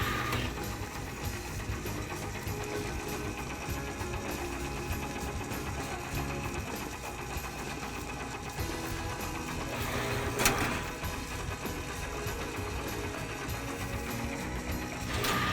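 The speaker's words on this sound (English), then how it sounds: "So we're going to run this donut machine on 2 different settings, normal automatic and skip cycle" A Lil Orbits SS1200 donut machine runs with a steady mechanical whir and regular ticking, moderately close, with no talking.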